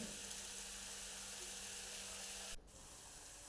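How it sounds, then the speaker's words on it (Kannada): Masala spices frying in ghee give a faint, continuous sizzle and hiss that carries on steadily, then drops slightly near the end. "ಈ ಕಡೆ ಮಸಾಲ ಫ್ರೈ ಮಾಡ್ತಾ ಇದ್ದೇನೆ"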